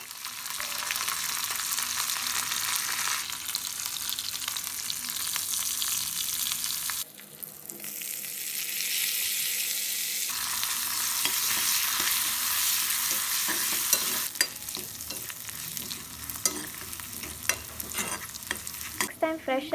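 Cumin seeds tempering in hot coconut oil fill the clip with a steady, dense sizzle that shifts in intensity midway, later joined by scattered pops and crackles, close and with no voices.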